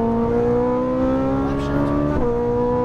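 Ferrari 458 Italia accelerating on a race track, its engine holding a loud, steady, rising harmonic drone with a brief shift near the end, heard from inside the car with voices faintly present.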